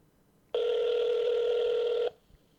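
A single telephone tone sounds while calling the FCC consumer line, one steady beep about one and a half seconds long, clear and alone against quiet.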